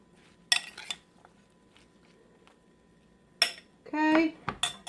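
A utensil mixes garlic salt and paprika seasoning in a dish, making a few sharp clinks and scrapes against the dish, separated by quiet pauses, with a longer scraping burst toward the end.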